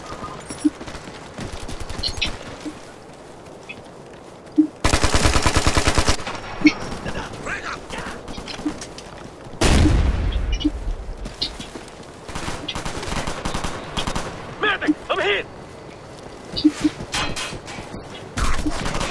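Rapid bursts of automatic gunfire and single shots from the video game Ghost Recon Future Soldier, some loud and close, others distant, scattered over a steady background.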